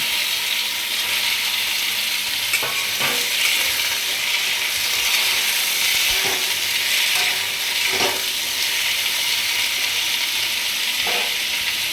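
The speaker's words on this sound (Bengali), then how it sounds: "এইবার আলুগুলো ভেজে নেব" Potatoes frying in a pan, a steady bright sizzle throughout with a few soft scraping stirs at intervals and no talking.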